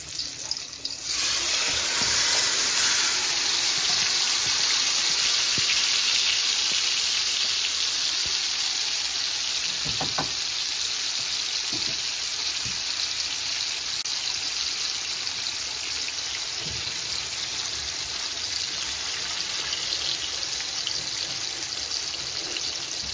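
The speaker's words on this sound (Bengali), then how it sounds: "তো মাছগুলোকেও এখন ভাজতে দিয়ে দিলাম।" Soft fish frying in a pan of oil on a home kitchen stove, a steady broad sizzle that swells early and holds for over twenty seconds, with a few faint clinks and pops.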